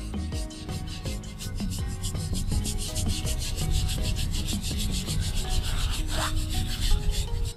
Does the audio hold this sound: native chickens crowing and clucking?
no